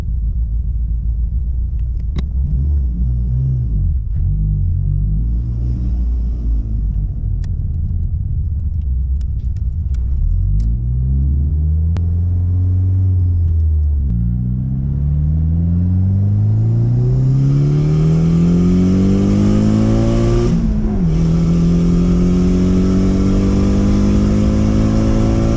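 Tuned car pulling hard at wide open throttle on a street run after a fuel system upgrade, engine note loud and close, rising steadily through the revs with a brief dip at a gear change before climbing again; no talking.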